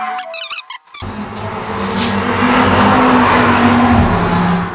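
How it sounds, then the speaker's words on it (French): A pocket bike speeds along a sidewalk, a thin, buzzing engine whine that starts abruptly after a brief other noise and holds loud and steady at a fairly near distance, shifting pitch slightly toward the end. "Il est en pocket bike, il a pas de casque, il roule sur le trottoir."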